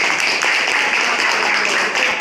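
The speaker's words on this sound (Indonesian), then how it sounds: "bagus sekali, beri tepuk tangan." Students in a classroom give a classmate a round of applause, a short burst of close, loud, brisk clapping from a small group.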